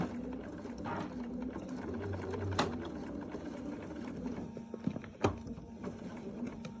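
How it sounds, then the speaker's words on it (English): A Bernina sewing machine with a 10D foot top-stitches binding onto a quilt, its motor whirring steadily with faint mechanical clatter and two sharp clicks near the end as single stitches are tapped; no talking. "That's what I like about the Bernina is you can take just one stitch and tap one stitch."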